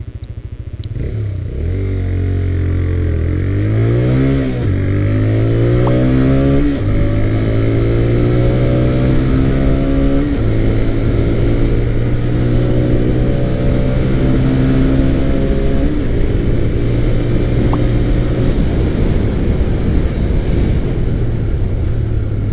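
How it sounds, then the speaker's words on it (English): A TVS Raider 125 motorcycle accelerating hard in power mode on an open road, its engine note rising through several gear changes with rhythmic revving sweeps, loud and close throughout with heavy wind rush. "I'm going to put it in power mode now and show you how the power gets delivered on this bike."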